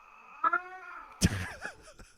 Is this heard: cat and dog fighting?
yes